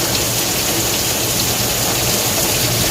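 Heavy rain pours down steadily and loud near a vehicle, a dense unbroken hiss of water with no voices and no pause.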